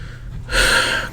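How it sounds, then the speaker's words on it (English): A loud, close breath rushes straight into a microphone, a sudden airy inhale that swells after a quiet moment, with no speech. "I'm breathing in the microphone."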